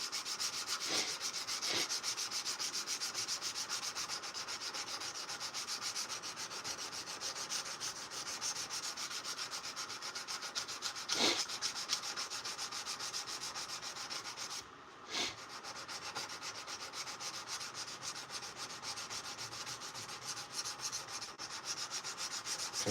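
A steel knife blade is sanded by hand with sandpaper, making a continuous close scratchy rubbing with steady strokes and a few brief pauses.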